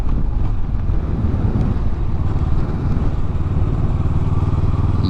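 A motorcycle cruises along a road, its engine droning steadily under heavy wind buffeting on the microphone, loud and continuous with no talking.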